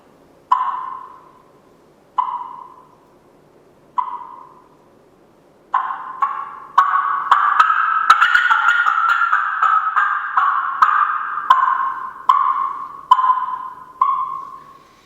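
A hen turkey call imitated on a mouth call: a few spaced single clucks, then a rapid, excited run of cackling notes that slows toward the end.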